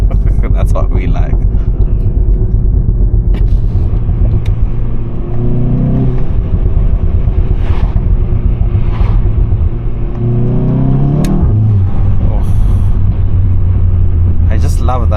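A tuned VW Golf 7.5 GTI engine drones loudly and steadily from inside the car while being short shifted, with a few rises and dips in pitch around the gear changes and occasional voices over it.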